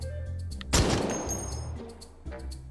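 A single close, loud shotgun blast fires in the virtual-reality shooter H3VR at a test dummy, a sharp crack that rings out and decays over about a second amid quiet game ambience.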